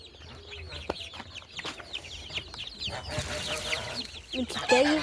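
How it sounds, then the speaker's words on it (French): A small pet hen clucks in short, chirpy bursts at close range, with other chickens calling faintly in the background on a backyard poultry setup. "Ma petite poule s'appelle Pote."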